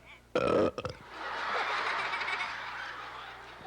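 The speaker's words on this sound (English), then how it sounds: "I can burp." A loud, close burp bursts out near the start, followed by a long, low croaky sound that trails off.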